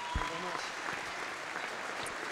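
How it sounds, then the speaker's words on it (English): Applause for a swimming gold medalist at a British championship pool: a quiet, steady wash of distant clapping from a crowd, lasting a couple of seconds, with a few muffled thumps near the start. "Let's have a massive round of applause for Chris Walker-Hedman,"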